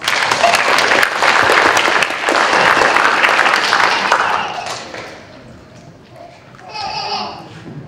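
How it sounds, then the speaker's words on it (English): A crowd at a sixth-grade middle school academic honors ceremony claps loudly and densely for several seconds, then the applause thins and fades as a few voices murmur in the room. "another round of applause for these ladies"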